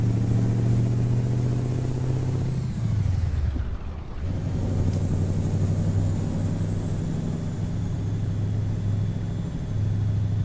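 Mack Superliner truck engine in American Truck Simulator, a steady low diesel drone that dips briefly as it shifts gear, then settles back into an even rumble while driving.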